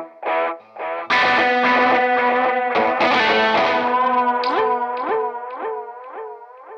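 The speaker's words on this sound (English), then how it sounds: "That delay we've been playing the whole time is a Walrus Audio ARP 87 for anybody interested." Electric guitar run through a Walrus Audio ARP-87 delay pedal, a few plucked notes then a sustained melodic line with repeating echoes trailing each note, close and fairly loud with no talking.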